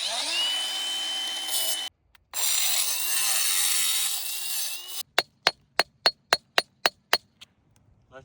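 A hammer strikes rock again and again while hunting sea urchin fossils, about ten sharp, loud, evenly spaced cracks following a stretch of steady grinding noise.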